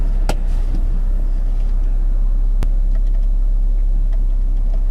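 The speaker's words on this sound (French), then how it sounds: "Donc une petite accélération pour voir un peu ce que ça donne." A BMW 340i xDrive M Performance F30 with 360 hp accelerates in Sport Plus mode, its engine a steady, loud, continuous drone and rumble with one sharp click partway through.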